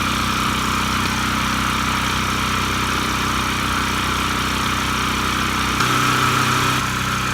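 A Duromax XP4850 hybrid generator engine warms up with its choke being eased closed, a steady close mid-pitched running drone with a slight shift in tone near the end.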